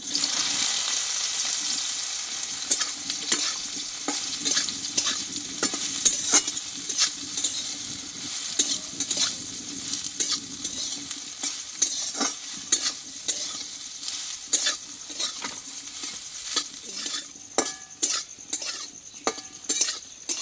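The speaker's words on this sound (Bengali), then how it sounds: "সোয়াবিনটা আমি একটু এই তেলটাই কষে নেবো" Soaked soybean chunks fry in white oil and are stirred steadily, giving a constant bright sizzle cut by many rapid spoon scrapes and clicks against the pan. The sound is close and busy, with no talking.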